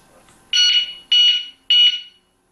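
An electric lock's security pre-warning alarm gives three loud, shrill electronic beeps, each about half a second long, evenly spaced and close by, with no one talking.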